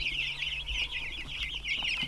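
Meat chickens cluck in a barn brooder, a dense, continuous chorus of high chirping and clucking from many birds close by, with no talk over it.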